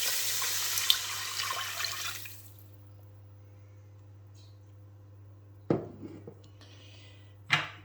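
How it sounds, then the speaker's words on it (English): Vegetable stock pours into a pot for a gluten-free vegan kale miso soup, a steady splashing stream lasting about two seconds before fading, followed by two brief clunks of a container. "Next we're going to add the vegetable stock."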